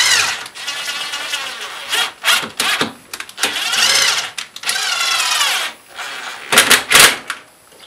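A power screwdriver drives screws into wood clamped in a workbench vise, giving repeated whining, revving bursts of varying length close by, separated by brief gaps.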